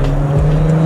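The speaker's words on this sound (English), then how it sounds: "Look at this TT. This TT sounds insane. 2 liter turbo." Audi TT with a 2-liter turbo engine, a close, loud steady engine drone with a low hum, heard alone for under a second.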